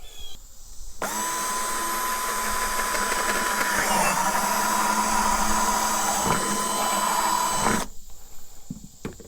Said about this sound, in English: Drill a hole through it with my drill.